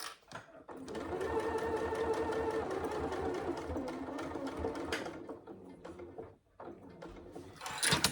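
A sewing machine stitches the pocket pieces of a saddle bag together in a long, even run of rapid mechanical clatter, quiet and close, pausing briefly before starting again in short bursts.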